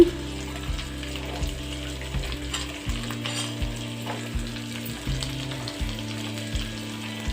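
Carrot pieces and tomato sizzle and fry in a pan with onion while upma is made, a steady sizzle broken by repeated stirring scrapes and clanks. No talk is heard.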